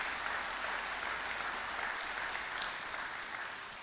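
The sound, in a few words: audience applause for training officers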